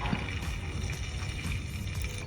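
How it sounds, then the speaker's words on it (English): Cooking oil poured for homemade chili oil, a steady soft liquid pour with faint splashing and trickling running continuously at close range, without any voices. "Let's pour oil."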